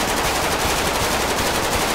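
Rapid automatic gunfire in the GTA V FiveM roleplay game, a dense, sustained burst of shots at steady loudness filling the whole moment with no talk over it.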